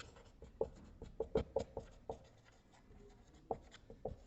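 Pen or chalk writing out a math solution in a group theory lesson, a run of distinct scratchy strokes with a pause midway, then a few final strokes, close and fairly quiet with no talk.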